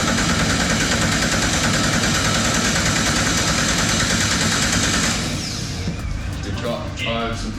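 A Ford Barra engine cranks and fires on its first start attempt, a loud, dense, steady mechanical roar that drops back after about five seconds into rougher, uneven running with people talking over it.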